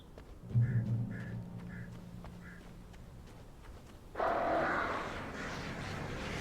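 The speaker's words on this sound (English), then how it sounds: "Birds." Birds in the video game Alan Wake give a run of short, evenly spaced quacking calls over a low rumbling ambience, then a louder, denser burst of wing flapping and calls near the end.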